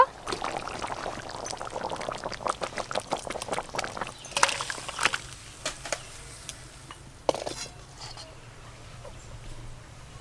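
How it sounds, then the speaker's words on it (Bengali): Thick curry made from a large 7 kg pangasius fish is poured and scraped out of a cooking pot in a series of soft, wet slops and clinks, fairly faint, with quiet background noise. "রান্না তো হয়ে গেল, এবার ঢেলে নেব।"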